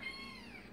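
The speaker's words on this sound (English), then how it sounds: "Please ignore the kitten crying in the background." A kitten cries with a thin, sustained meow that bends gently in pitch, close and fairly quiet, heard alone with no voices.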